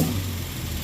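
A warmed-up fuel-injected car engine idling steadily with a low, even rumble, close by and continuous for under a second.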